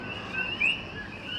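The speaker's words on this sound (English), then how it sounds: "This is the sound of a coqui," Faint, high chirping calls of a coqui frog, played from a speaker outdoors in a North Philadelphia neighborhood. They sit over low background hum, with a few short tones and one slightly stronger chirp.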